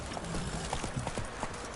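Roach the horse's hooves clop rapidly and rhythmically in a short burst of galloping in Witcher 3, close and clear, with faint game ambience beneath.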